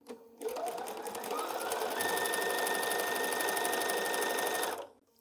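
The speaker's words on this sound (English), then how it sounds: "So let's sew, and I'm just going to run my strips right along that edge." A sewing machine runs continuously, stitching quilt fabric strips along a straight edge, a steady close mechanical whir with rapid needle ticking that starts abruptly and stops near the end.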